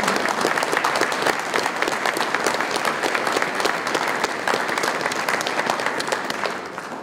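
Sustained audience applause fills a Navy chief petty officer pinning ceremony at a naval medical center, dense steady clapping that holds loud throughout and eases slightly at the very end.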